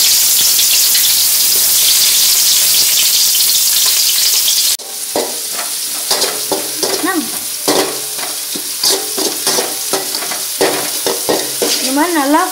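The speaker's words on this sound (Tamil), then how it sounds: "இந்த மாதிரி நல்லா ஃப்ரை பண்ணுங்க வெங்காயத்தை ஃப்ரை பண்ணிக்கோங்க" Onions sizzling and frying in hot oil in a pan for cauliflower manchurian, with a steady crackling hiss that turns into close stirring scrapes and spatters partway through, heard alone.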